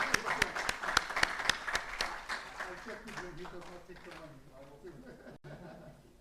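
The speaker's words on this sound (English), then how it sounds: "So please join me in giving a warm round of applause to Dr." Applause at a conference ceremony for Dr. Ismail and his students, starting as sharp, distinct claps from a small audience and thinning out over a few seconds as voices and chatter take over the room.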